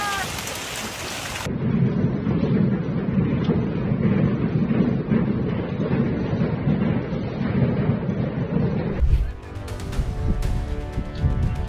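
Heavy rain pours and thunder rumbles through a severe storm, a dense, loud, steady roar, then a sharp close thunderclap gives way to rattling impacts.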